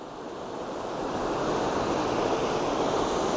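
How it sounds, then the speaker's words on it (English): Broad, steady roar of a waterfall's rushing water on the Tobacco River at Edenville Dam, building slightly in the first second then holding constant, with some wind noise mixed in. "we are right here in front of the falls"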